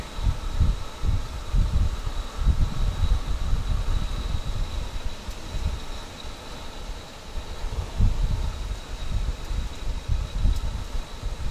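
Strong wind buffets the side of a truck trailer on the highway toward Dallas and Texarkana, making a constant low rumbling roar with gusty swells and rustling throughout.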